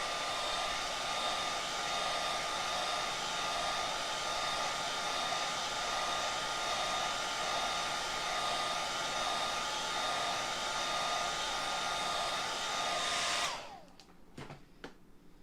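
A hair dryer runs steadily and loudly, drying glue on a scrap-wood craft piece, with a constant whining hum that cuts off abruptly near the end, followed by a few light knocks.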